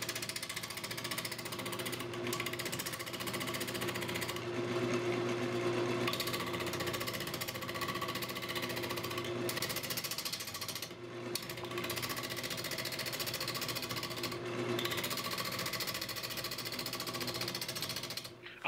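Woodturning lathe running continuously while a tool levels the face of a spinning wooden blank, a steady dense whir with faint scraping, close and unbroken throughout.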